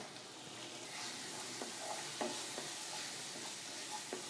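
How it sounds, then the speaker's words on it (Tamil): Tomatoes and onions sauté in a pan for poha biryani, with a soft, steady sizzle and occasional light stirring scrapes, faint and close, with no talking. "இந்த தக்காளி நல்லா குழைவாக வதங்கட்டும்"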